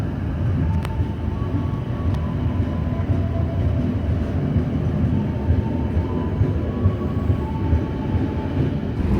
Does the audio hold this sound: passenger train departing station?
yes